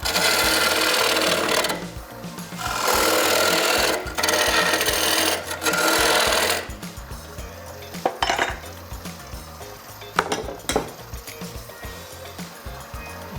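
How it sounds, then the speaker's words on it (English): Gouge cutting wood on a lathe behind a shoulder, working a turned wooden flask: a steady raspy scraping drone in long passes, broken by short pauses and sharper catches, close and loud with no talk. "Now I have to go with a gouge behind that shoulder."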